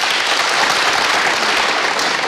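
Dense, steady applause from a large audience at a Punjabi star night broadcast on DD Punjabi, filling the whole stretch with continuous loud clapping and no voices.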